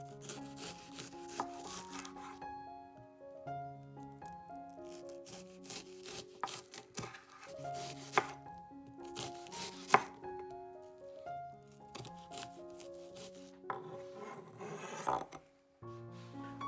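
A knife chopping pine nuts on a cutting board for a whole-fish rice-cooker dish, soft repeated taps and rubs half-buried under steady melodic background music, with no voices.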